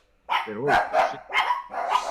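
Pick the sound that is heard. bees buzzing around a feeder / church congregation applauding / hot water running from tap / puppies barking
puppies barking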